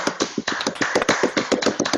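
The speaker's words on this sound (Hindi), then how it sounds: "जोरदार तालियां सर के लिए, सभी को अनम्यूट कर दिया मैंने" Many online meeting participants clap together once unmuted, a dense, rapid patter of overlapping claps that is loud, close and slightly clipped through the call audio.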